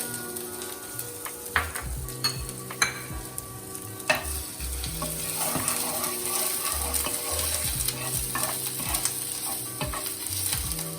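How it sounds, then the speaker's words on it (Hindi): Cumin seeds spluttering and crackling in hot oil while making homemade Indian samosa filling, with sharp pops early on over a steady frying sizzle and a few stirring clatters. "जब जीरा स्प्लैटर करेगा तब हम उसमें जिंजर डालेंगे"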